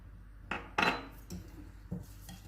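Spoon clinks and scrapes against a bowl while pomegranate seed powder, cumin, coriander, mint and salt are mixed for boondi raita, several separate close knocks and rubs.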